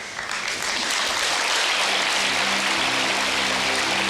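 A TV studio audience applauds loudly and continuously, a dense, even wash of clapping that swells slightly and holds steady throughout.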